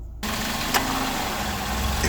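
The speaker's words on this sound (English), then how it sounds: "start the engine and turn on the AC to see if the cooling fan starts running" A Kia Sportage engine idles steadily with the air conditioning switched on, a close, even hum with a single brief click near the start and no talking.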